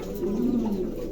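Black Maltese pigeons give a soft, low coo close by, one smooth throaty call over a quiet background.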